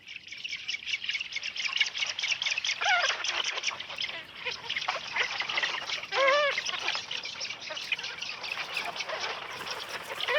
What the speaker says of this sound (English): Today, Germany is home to a few hundred breeding pairs of spoonbill.